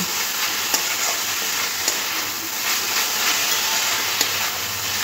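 Radish greens with peanuts and raw mustard oil sizzle steadily in a pan, a dense close hiss punctuated by a few sharp clicks of a stirring spoon, with no voices.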